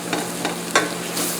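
Cooked onions and mushrooms sizzling in a pan alongside calves liver with sage, a quiet continuous hiss with a few soft stirring scrapes, close by and without speech.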